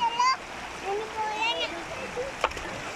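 A child throws stones into a stream at Shahdara Point near Rawalpindi. Running water babbles underneath, and one sharp splash lands near the end while an adult and someone talk over it outdoors.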